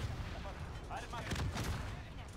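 Sniper gunfire in the video game Modern Warfare, heard as quiet, booming game shots with low rumble and sharp bursts spread across a short stretch.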